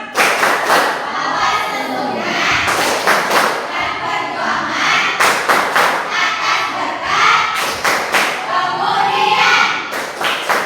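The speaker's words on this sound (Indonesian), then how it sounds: "Yuk, tepuk undang-undang." Children in a classroom chant together while clapping in a rhythmic pattern, with loud, close group voices and bursts of sharp clapping recurring in repeated phrases over about ten seconds.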